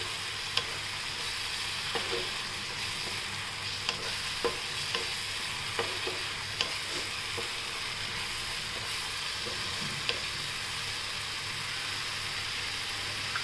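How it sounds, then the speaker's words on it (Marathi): Rajma masala is sautéed in oil in a pan, a constant soft sizzle broken by frequent scraping and tapping of a stirring spoon over several seconds, with no speech. "आपण 2 मिनिटं परतून घेऊया."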